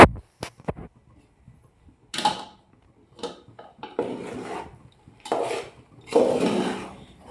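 Pasta mixed with masala in a very large pot, heard as irregular scraping and rubbing strokes of a spoon against metal, with a few sharp clinks at the start and longer grinding stirs later.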